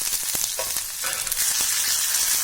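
Finely chopped garlic and grated ginger sizzle steadily in hot oil in a home kitchen, a continuous close crackle with faint stirring clicks and no talking.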